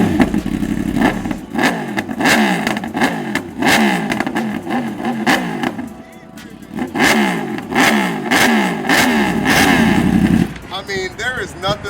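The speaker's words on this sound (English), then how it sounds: "Let me start it so you guys can hear it." A 2025 Yamaha R1 sport bike with a full titanium SC Project exhaust starts and revs repeatedly, loud close sharp blips rising and falling in quick bursts, a brief lull midway, then more revving before cutting off.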